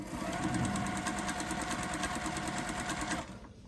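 A sewing machine stitches through a pinned quilt for a mystery puzzle quilt, running at a steady, fast, close whir for about three seconds before stopping abruptly.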